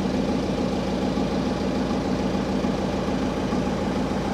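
Generator engine running aboard a Vietnamese fishing vessel, a steady droning idle with a low rhythmic throb, close and constant throughout with no talking.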